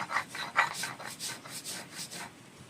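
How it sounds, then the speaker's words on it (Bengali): Poppy seeds being ground into a paste by hand, a soft rhythmic rasping rub repeating in steady strokes, close and fairly quiet with no talk. "পোস্তটা বেটে নিচ্ছি।"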